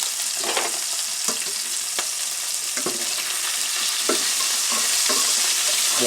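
Small pieces of hot Italian sausage fry in a pan with a loud, steady sizzle and crackle, broken by a few soft stirring scrapes, with no talking.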